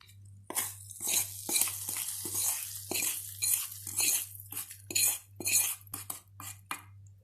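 Tempering is stirred into ginger lemon rasam in a pot: a spoon clinks and scrapes against the metal in irregular bursts over a low, steady background hum.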